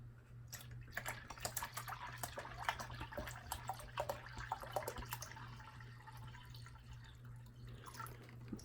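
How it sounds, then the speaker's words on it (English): Water drips into a reptile enclosure after treated water is poured in, a steady scatter of small, close taps and trickles over a faint constant hum, with no talking. "usually it drips a little bit at first"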